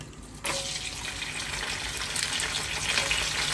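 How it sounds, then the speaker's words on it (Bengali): Whole garam masala spices are dropped into hot oil and burst into a loud, steady sizzle that starts suddenly and keeps crackling without a pause. "চিকেনের জন্য আমি যে এই গরম মশলাগুলো এখন গরম তেলে"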